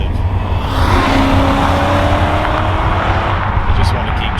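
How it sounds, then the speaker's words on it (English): A BMW 535i Alpina V8 pulls hard on the road, its engine note climbing with a thin rising whine above the road and wind noise, while someone talks over it. "There's a whine from that V8, which is addictive."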